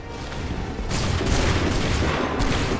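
A musket volley fired in Assassin's Creed 3, a loud, dense burst of overlapping gunshots with a rumbling boom that rolls on for a couple of seconds.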